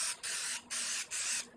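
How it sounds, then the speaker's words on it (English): Nonstick cooking spray hisses onto a baking pan in three steady bursts, each lasting about a third of a second with short gaps between, close and clear, with no talking. "We're just going to kind of spray just lightly, spray our edges."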